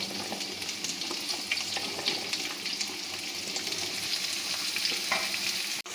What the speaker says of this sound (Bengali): একই সাথে ভেজে নেব কেটে রাখা ফুলকপি। সঙ্গে ভেজে নেব আলুগুলো।